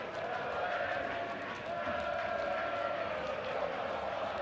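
A football crowd roars in a continuous, even wash of cheering at an Aston Villa UEFA Cup match away to Litex Lovech in 2009, with a commentator's voice over it.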